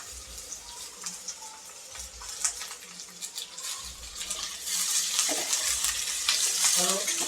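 Two medium onions sautéing with curry leaves for dal fry, a steady sizzle broken by rhythmic stirring scrapes, growing louder and hissier toward the end.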